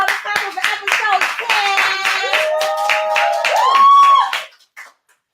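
Rapid rhythmic hand claps close to the mic, mixed with cheering voices and a sung, held tone, ending abruptly in silence.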